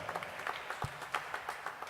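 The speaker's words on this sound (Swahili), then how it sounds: "Ongeza tena makofi hayo" A church congregation applauding during a worship service, rapid scattered claps from a crowd forming a continuous patter at moderate distance, with no voices over it.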